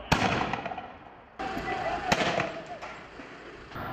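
Fireworks fired by protesters at riot police during street clashes in Turkey, with sharp cracks and bangs and a dense rushing crackle over loud crowd noise, strong bursts near the start and just before the middle.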